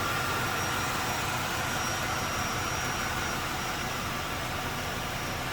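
A 1995 Chevrolet Impala SS with a 5.7 liter engine idles smoothly in the engine bay, a steady, even broadband hum and rush with no revving or break, moderately close and unaccompanied.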